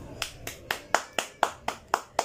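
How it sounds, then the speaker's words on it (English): Children clapping along with a nursery class warm-up, about nine evenly spaced, fairly sharp claps in a steady rhythm, close and moderately loud, with no talking between them. "children, clap your hands."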